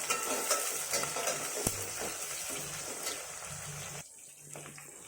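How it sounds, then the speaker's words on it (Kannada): Onions frying in a pan for vangibath gojju give off a steady broadband sizzle with light stirring scrapes, close and fairly even, briefly dipping near the end. "ಈರುಳ್ಳಿ ಹಾಕ್ಕೋತಾ ಇದ್ದೀನಿ. ಇದು ಚೆನ್ನಾಗಿ ಹುರ್ಕೋಬೇಕು."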